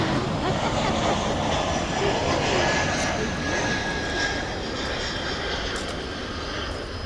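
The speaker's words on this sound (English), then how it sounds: "Comes a flight from Philadelphia." A passenger jet arriving at DFW Airport at night from Philadelphia, seen from Founders Plaza, gives a steady, loud engine roar. The roar holds for the whole stretch and eases off slightly toward the end.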